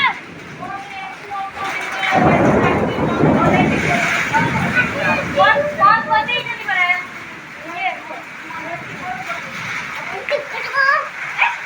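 Heavy rain during a strong storm, a dense rushing wash of water that swells after a couple of seconds and then continues steadily under someone talking throughout.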